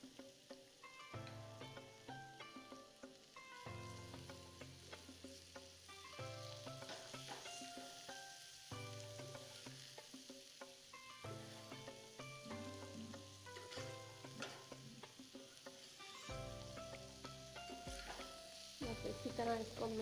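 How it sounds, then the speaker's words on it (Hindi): Sliced potatoes and onions sizzle steadily in a pan while a spoon scrapes and stirs them in repeated strokes, the frying faint and continuous throughout. "इसी तरह इसको मिक्स करते जाएंगे ताकि ये बन जाए"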